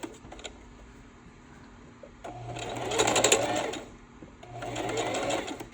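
An electric sewing machine runs in two steady buzzing stitching bursts of a few seconds each, close and fairly clear, with a short pause between them. It stitches after being used on leather.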